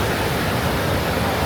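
Water pours down from a river gap viewpoint in a continuous, broad rushing roar, steady and fairly close, with no voices over it.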